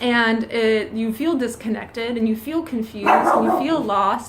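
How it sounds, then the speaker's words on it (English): A dog named Nibbler barking at someone outside through an open door on a spring day, a few sharp barks late in the clip, faint beneath someone speaking close up. "so excuse the barking"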